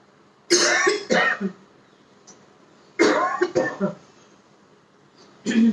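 Three loud, harsh bursts of coughing and throat clearing during ujjayi pranayama breathing, close up, separated by short quiet pauses.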